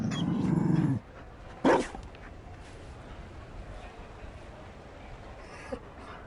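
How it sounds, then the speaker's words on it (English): A Mabari war dog in a fantasy video game pants and whimpers close by for about a second, followed by a short sharp yelp, then quiet game ambience with a faint soft sound near the end. "You found a dog?"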